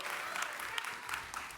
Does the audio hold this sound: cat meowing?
no